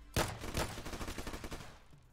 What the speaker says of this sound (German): Schüsse auf Feuerwehrmann.